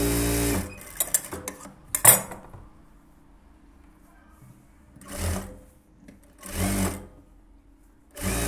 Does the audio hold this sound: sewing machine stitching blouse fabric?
yes